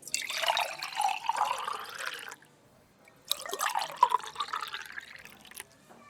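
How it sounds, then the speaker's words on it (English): Wine poured into a glass, a close liquid splash and trickle in two separate pours with a short pause between them, no talking over it. "That's it, let me pour you some."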